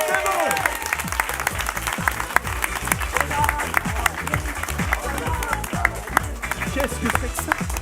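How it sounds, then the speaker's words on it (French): A studio audience at a quiz show applauds, sparse overlapping handclaps mixed with rhythmic thumping, while voices talk over the noise. "vous, le public, vous allez leur faire un tonnerre d'applaudissements"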